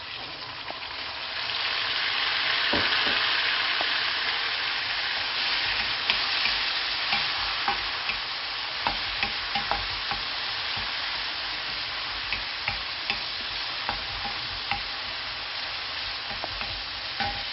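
Onions and two peeled tomatoes frying and being stirred in a pan, a steady loud sizzle with scattered scrapes and clicks of the spoon throughout.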